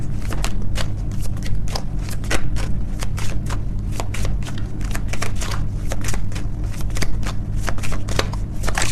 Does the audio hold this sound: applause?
no